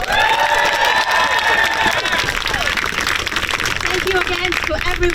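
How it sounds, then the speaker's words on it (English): Outdoor rally crowd in Lowell, Massachusetts, for the right to choose, applauding and cheering loudly under a loudspeaker voice, with the clapping fading into murmur toward the end. "Please give another round of applause to Jamie."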